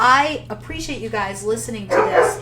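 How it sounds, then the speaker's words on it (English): A dog barks repeatedly in a home office, a few short barks and yips in the background beneath someone speaking steadily in the foreground. "I don't know if you hear my dog barking in the background."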